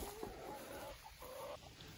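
Egg-laying hens in a dry, shaded run connected to the back of a polytunnel give soft, faint clucks and short murmuring calls over a quiet outdoor background.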